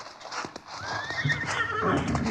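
Horses in a vintage radio western drama snort and whinny while their hooves clip-clop in a quick trotting rhythm, close and clear for a couple of seconds with no talk over them.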